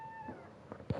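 A cat gives a short meow, close and fairly quiet, inside a room, with a faint steady electronic tone behind it.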